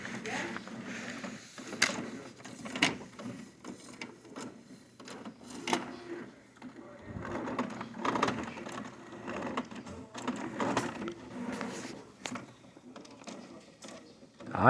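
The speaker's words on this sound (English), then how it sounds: "Pretty nice printer, huh" An HP OfficeJet 6500 printer runs through a print job nearby, with repeated mechanical whirs, clicks and sharp paper-feed clacks in an uneven rhythm, and a voice speaking faintly now and then.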